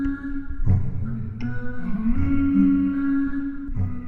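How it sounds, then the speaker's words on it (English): Music played on a handmade stringed instrument built by a luthier, with sustained tones and plucked notes carrying steadily at a moderate, even level, alone with no voices. "What you're hearing is music using an instrument that John made."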